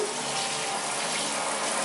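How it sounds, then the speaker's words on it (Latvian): Clean water rinsing bathroom surfaces during cleaning: a steady, loud broadband rush of running water from a tap or shower, continuous and close with no pauses and no talking. "Vienkārši visu mēs aizskolojam prom ar tīru ūdeni."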